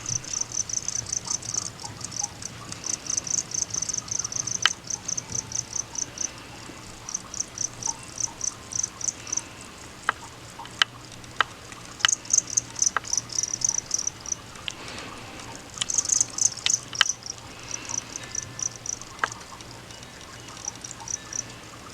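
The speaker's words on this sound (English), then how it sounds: "Male crickets make a chirping sound" Feeder crickets chirp in quick repeated bursts, close and shrill, with short pauses between trains of chirps and no voices.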